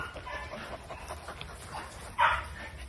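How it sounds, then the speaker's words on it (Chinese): Several dogs playing together, with soft whimpers and yips scattered through a busy, low-level background, then a sharper, louder yelp close by near the end. "露西，不要咬狗哎！"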